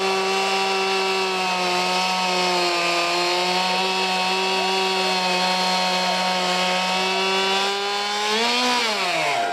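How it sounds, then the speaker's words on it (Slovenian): An old chainsaw runs at a chainsaw competition in Solčava, Slovenia, a loud, steady engine drone holding even pitch for several seconds before a short rise and dip as the throttle changes near the end. "v drugem delu tekmovanja pa uporabljajo stare motorne žage"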